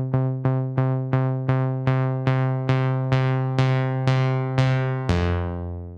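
Rapid repeating synth plucks, about two per second, grow brighter and longer-ringing as a single macro knob sweeps the filter open, ending in a sustained tone with a reverb tail.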